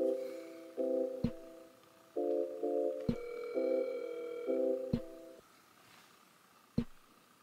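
Telephone tones on an outgoing call before it goes to voicemail: several steady beeping tone bursts of differing lengths, some chords, separated by sharp clicks, loud and close with no talking.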